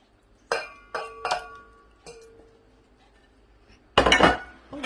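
A utensil mixes fish marinade ingredients in a bowl: a few bright, ringing clinks spaced apart, then a dense burst of rapid clattering near the end, close and fairly loud, with no speech.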